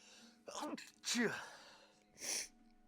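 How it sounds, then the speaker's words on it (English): A single close sneeze, with a sharp inhale building into a loud burst, followed by a brief breathy sound. "I gotta sneeze."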